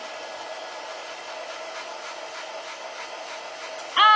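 A hair dryer blows steadily on an air dry clay bead, a continuous close whooshing hum at even loudness, with a brief clatter right at the end.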